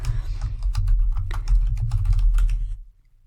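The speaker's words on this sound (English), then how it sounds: "if not, you can just type it in" Fingers type quickly on a computer keyboard, producing a close, dense run of light key clicks for about three seconds before stopping into silence.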